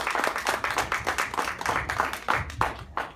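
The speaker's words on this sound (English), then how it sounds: "One more big round of applause for these filmmakers." Audience at a film festival Q&A gives the filmmakers a round of applause, a rapid, dense patter of many hands clapping at moderate volume, steady throughout the few seconds with no speech over it.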